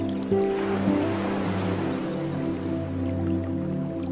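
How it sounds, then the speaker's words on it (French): Ocean waves washing onto a beach, a steady soft surf wash with a constant low tonal hum underneath, fairly even throughout. "Tu es seul sur une belle plage. Tu profites et respires au son de l'océan."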